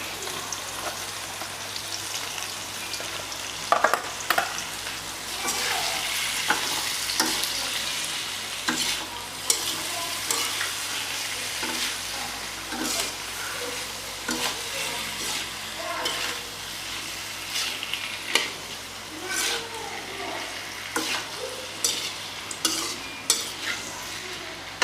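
Continuous sizzle of tofu and chicken liver frying in a pan, broken by repeated spatula scrapes and stirring clatter, close and fairly loud throughout.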